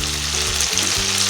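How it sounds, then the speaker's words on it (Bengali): Ground turmeric and other everyday powdered spices fry in hot oil for a cabbage kofta curry. The sizzle is loud, close and continuous, with brief stirring shifts, and no one speaks. "এবার দিচ্ছি নিত্যদিনের কিছু গুঁড়ো মশলা, যেমন হলুদ গুঁড়ো,"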